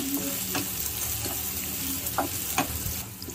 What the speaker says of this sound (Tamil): இது நல்லா நம்ம இப்போ வதக்கி வச்சுக்கலாம். மீடியம் ஃப்ளேம்லேயே வச்சுருங்க.